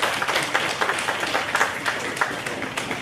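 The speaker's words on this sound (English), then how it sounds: "Give them a round of applause." An audience at a police recruitment fair breaks into a round of applause, dense and continuous, with individual claps popping through the fairly close, even wash.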